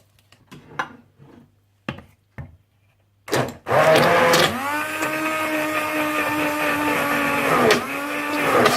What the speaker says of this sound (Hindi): या मेरी तरह हैंड ब्लेंडर से अच्छी तरह से ब्लेंड कर लीजिएगा